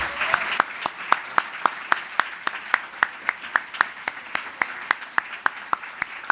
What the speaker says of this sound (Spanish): Por lo pronto les pido por favor un aplauso para el doctor Roberto